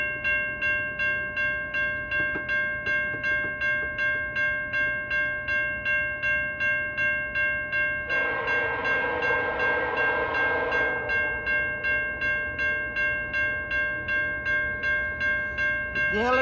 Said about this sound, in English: See a train this morning, eastbound.